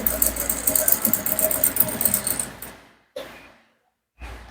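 An electric sewing machine stitches fabric along an agbada neckline in a steady, rapid whir for over two seconds, then cuts off, followed by two short mechanical bursts.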